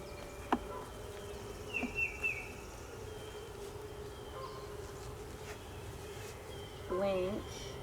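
A low, steady hum of honeybees comes from a nucleus hive, faint and continuous, with a few clicks and knocks and a brief voice over it.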